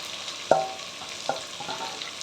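Cabbage, capsicum, carrot and onion frying in a pan for chicken fried rice give a soft, steady sizzle with a few sharp clicks and pops, close by and fairly quiet, with no talk.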